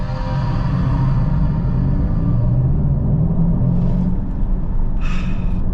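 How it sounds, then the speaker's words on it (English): A Mercedes EQS 53 AMG electric sedan accelerating hard from a launch-control start, a heavy continuous low rumble of road and drivetrain noise inside the cabin with a faint rising electric whine, steady and loud with no engine roar. "foot on the throttle, race start"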